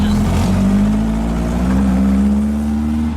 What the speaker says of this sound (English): You're just lugging it along in second gear